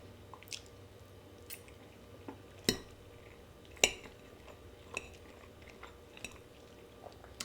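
Pesto pasta being eaten with cutlery: soft chewing and wet squishy sounds, punctuated by a few sharp clinks of metal against a plate, close and otherwise quiet.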